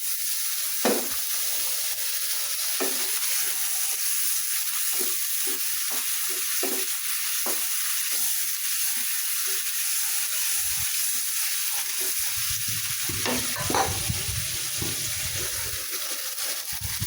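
Water goes into a pan of frying spiced curry with ginger paste, cumin paste, chili and turmeric, giving a steady loud hiss and sizzle with a few stirring knocks and bubbling toward the end.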